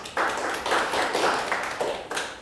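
A church congregation at a Wednesday worship service bursts into applause in several short, dense waves of clapping, fairly close and moderately loud, with brief dips between bursts.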